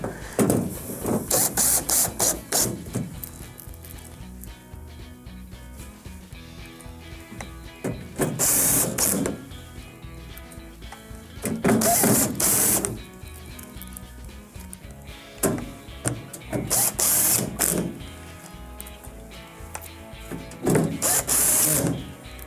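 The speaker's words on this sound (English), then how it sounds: "secure the top of the actual wrap with the 6 beveled screws" Power screwdriver driving number 2 Phillips beveled screws across the top of a Whirlpool microwave's outer wrap, in about five loud whirring bursts a few seconds apart, with quieter handling noise between them.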